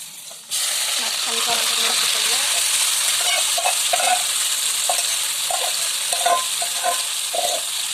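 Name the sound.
meat frying with fried onions and spices for pilau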